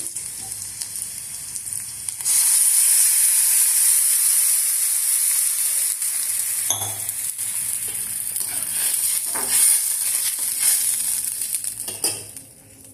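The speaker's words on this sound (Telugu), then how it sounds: "ఇప్పుడు వాటర్ పోసేద్దాం" Water hits a sizzling onion tempering in a pan for vermicelli upma, setting off a sudden, loud, steady frying hiss that holds for about ten seconds with a few clattering bursts before dropping away.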